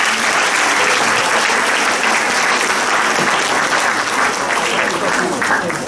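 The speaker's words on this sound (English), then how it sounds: "A round of applause for Professor Raychaudhury." A lecture audience breaks into loud, sustained applause for Professor Raychaudhury, thick clapping from many hands filling the hall, close and even from start to finish, with a few voices faintly under it.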